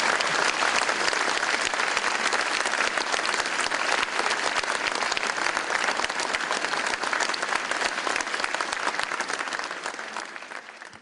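Sustained, dense applause from a symposium audience supporting the Uyghurs and East Turkistan, welcoming a speaker, steady and loud for about ten seconds before tapering off at the end.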